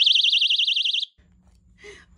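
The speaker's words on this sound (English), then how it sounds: "the alarm. I hope it's not too loud" A personal safety keychain alarm wails with a shrill, rapidly warbling tone for about a second, then cuts off abruptly into near silence.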